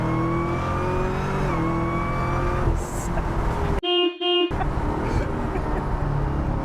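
A Chevrolet Camaro with a supercharged V8 drives along, its engine droning steadily with a couple of pitch shifts as it works through gears, then briefly cuts out before resuming at close range.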